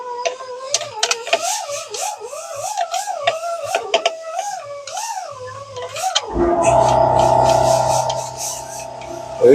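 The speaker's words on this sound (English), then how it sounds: "Some compressor noise for you guys, because we all know that you guys love air compressors." An air compressor runs in a workshop where a welded header for a 1980 Firebird is being cleaned. A wavering tonal sound with sharp clicks gives way to a loud, steady mechanical drone with a low hum that continues to the end.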